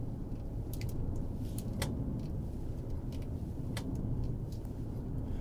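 A 2024 Hyundai Santa Fe Hybrid being driven through a handling test, giving a steady low road and engine rumble with faint, brief higher ticks and rattles scattered throughout.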